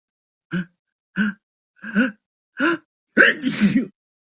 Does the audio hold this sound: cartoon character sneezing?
yes